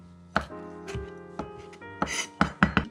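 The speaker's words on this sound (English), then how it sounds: "Let's cut the chili into small pieces as well." A knife chops chili into small pieces on a board, preparing a Sri Lankan fish curry; several sharp, close knocks come in an uneven rhythm, with a quick cluster near the end.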